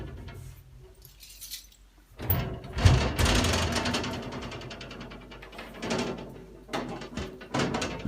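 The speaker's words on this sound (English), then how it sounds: "Sounds like my glass doors, right?" Glass sliding doors in an old Japanese house from around 1953, rattling and rumbling as they slide open and shut in several bursts, with glassy jangling and thuds, fairly close.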